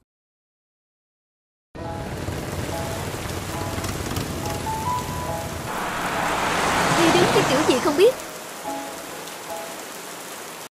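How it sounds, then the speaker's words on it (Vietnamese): Heavy rain on a rainy flood day in an animated fairy tale, a dense steady downpour that swells louder toward the end, with a voice speaking briefly over it. "Những ngày mưa lụt"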